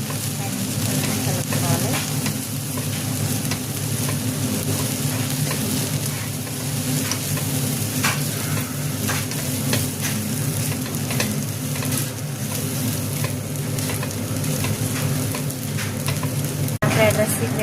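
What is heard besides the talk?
egg and prawns frying and stirred for fried rice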